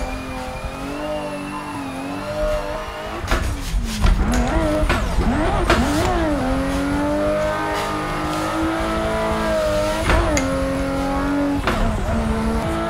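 A Beater JZX90 drift car from the Gravy Garage pack in Assetto Corsa revs hard and continuously, its engine note rising and falling through gear changes with bursts of tire squeal, loud and close throughout.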